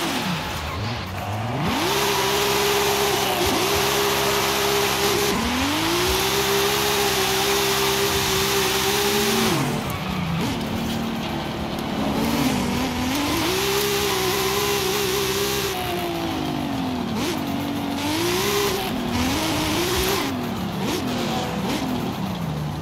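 A 1600 hp widebody MK4 Supra in Forza Horizon 5 revs and accelerates repeatedly, its engine climbing through gears with sharp drops between shifts, loud and close over a bright hissing wash of road and game noise.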